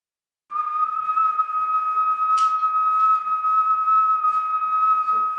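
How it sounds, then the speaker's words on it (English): A person whistles one steady, clear pitch held for about five seconds after brief silence, loud and close, with a faint click partway through. "But if I whistle again"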